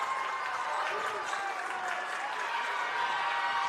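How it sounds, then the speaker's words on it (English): Basketball fans applauding in a gym during a girls high school game, a steady wash of clapping and crowd noise at moderate distance. "Central Noble fans applauding the defense from the Cougars."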